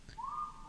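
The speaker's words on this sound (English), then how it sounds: "I'm very confused as to how to interpret this whistling" A short, clear rising whistle from a video game set on an abandoned ghost ship, a single faint tone that slides upward and holds briefly, heard alone.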